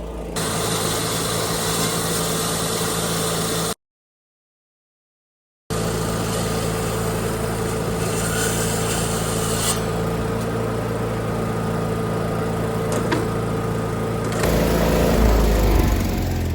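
Milwaukee saw grinding through 2-inch thick metal, a loud steady motor whine and cutting roar that runs continuously, drops out briefly, resumes and grows harsher near the end, with no talk.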